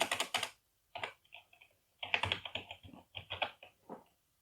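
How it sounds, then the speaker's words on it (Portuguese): Quick bursts of typing on a computer keyboard during a Java programming lesson, clicking keys in short clusters separated by brief pauses, close and fairly quiet with no talk. "Agora eu vou digitar aqui dentro o número 32."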